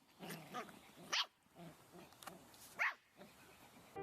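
A litter of six puppies yapping and barking in short sharp bursts, two louder yelps standing out over a busy, close background of small whimpers and movement.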